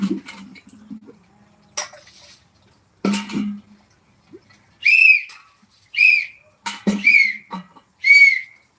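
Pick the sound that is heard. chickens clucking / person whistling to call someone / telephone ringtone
person whistling to call someone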